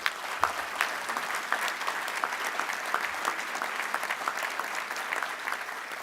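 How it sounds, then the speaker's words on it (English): Audience applause at a community award ceremony, a steady, moderately distant patter of many hands clapping that continues evenly throughout, with a few sharper individual claps standing out. "So can we give him another round of applause, please?"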